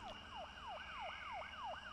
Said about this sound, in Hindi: कहीं दूर कोई पुलिस की गाड़ी सायरन बजाती कहीं चली जा रही थी।